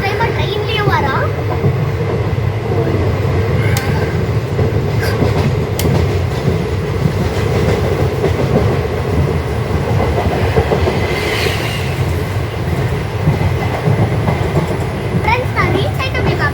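A passenger train travelling from Kollam to Coimbatore rumbles loudly and continuously on the tracks, heard from inside the carriage, with faint clickety-clack and distant voices including children beneath.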